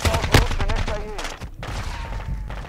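Bursts of gunfire in Call of Duty Modern Warfare 2, sharp rapid shots with a loud crack near the start, mixed with game effects and a voice talking over them.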